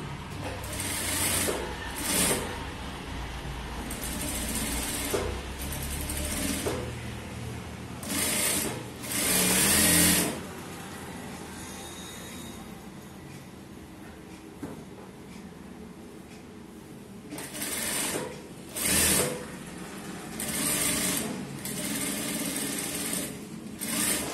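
A sewing machine runs edge stitching along a lined blouse neckline in several bursts of fast mechanical whirring, some short and some longer, with a long quiet stretch midway and faint handling noise between runs.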